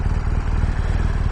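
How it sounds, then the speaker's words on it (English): A BMW R1200GS motorcycle engine runs close by with a deep, throbbing, steady pulse and a slight mechanical clatter. "What an incredible motorcycle. The legendary R1200GS."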